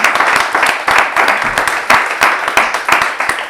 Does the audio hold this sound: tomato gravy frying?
no